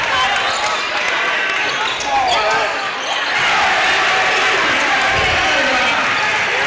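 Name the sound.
excited basketball crowd after a varsity dunk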